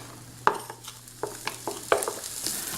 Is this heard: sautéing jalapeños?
yes